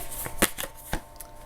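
A tarot deck being handled, with cards drawn from the top: a few quick, crisp snaps and flicks of cardstock close by, irregular and brief, without talk.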